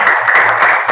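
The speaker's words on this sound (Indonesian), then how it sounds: "tepuk tangan" A short, loud burst of group clapping fills a classroom, brief and steady for about a second.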